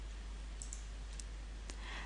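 Faint computer mouse clicks sound in a quiet room, a few sharp isolated clicks scattered over about two seconds, with no talk.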